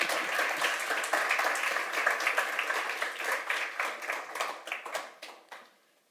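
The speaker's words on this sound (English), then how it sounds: "With a round of applause, sorry." An audience at a React Native community meetup in Kraków applauds steadily for several seconds, the clapping thinning out and fading away toward the end.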